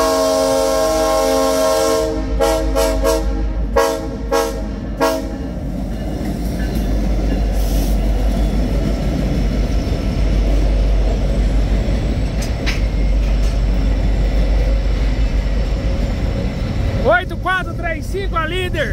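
An SD70 diesel locomotive hauls an empty train past, its deep engine rumble steady and loud throughout, joined by wheel and wagon clatter and a short horn near the end; a voice speaks over it.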